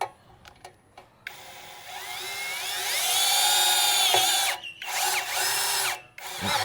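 MASARU SCDI cordless three-mode impact driver fitted with a drill bit and boring into a steel post. A whining motor rises to a sustained high-pitched drilling tone that strains and pauses briefly, then resumes before stopping, close and loud.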